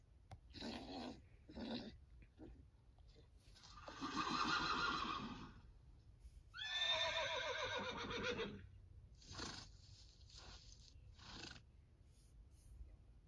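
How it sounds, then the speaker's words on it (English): Domestic horse neighing, several whinnies: short bursts at first, then two long, loud, shaking neighs in the middle, followed by a few more brief calls fading out, close and clear with no talk. "Horse."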